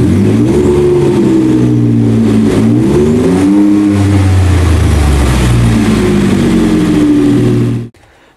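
A 2015 Ford F-150 Baja off-road pickup with Gibson dual exhaust rumbles loud and close, revving up and down in several throaty swells before cutting off abruptly.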